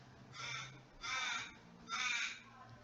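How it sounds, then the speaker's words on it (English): A crow caws loudly outside three times in a slow, evenly spaced series, each call harsh and drawn out, standing alone over a quiet background. "It's a very loud bird today."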